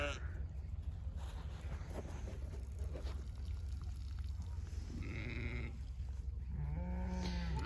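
A flock of pregnant ewes during lambing season, with a steady low background hum, a few bleats and a clear, close bleat near the end while a person talks to the animals.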